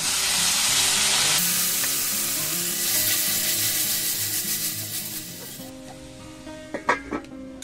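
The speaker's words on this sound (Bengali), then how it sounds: "এবার আমি একটু জল দিয়ে আরো একটু ভেজে নেব।" A spice paste for a potato, cauliflower and carrot curry sizzles hard in a pan, then hisses and bubbles more softly once a little water goes in, ending with a few sharp utensil clanks against the pan.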